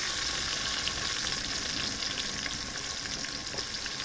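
Ingredients added to a hot pan over a village fire, a steady, dense sizzle and crackle of frying that continues evenly throughout without talk.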